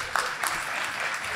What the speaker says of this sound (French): Une bonne main d'applaudissements pour LCN.